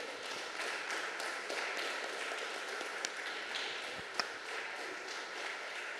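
Scattered clapping from a church congregation, fairly soft and uneven, with a couple of sharper isolated claps standing out.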